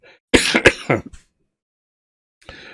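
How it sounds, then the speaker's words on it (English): A close, loud throat clearing in a few rough bursts, followed by silence and a brief faint sound near the end. "I apologize for the cough."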